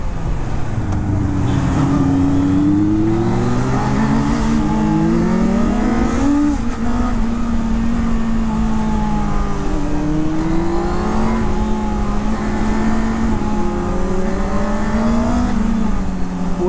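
A Honda CBR 650R motorcycle ridden on the street, its engine loud and close throughout, rising and falling in pitch as the rider works the throttle and changes gears, with no talk.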